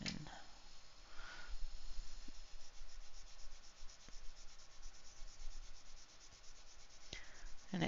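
A Faber-Castell Polychromos coloured pencil in cinnamon (189) rubs across paper in quiet, continuous scratchy strokes, close and faint, with a few small taps.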